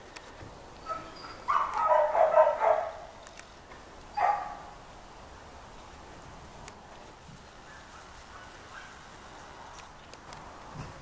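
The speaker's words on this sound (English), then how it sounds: "She's out having some socialization time with her other available dog, Zelda, her three-legged dog." A dog barks and yelps in a short burst of several calls near the start, then gives one more bark, with quiet ambient background in between.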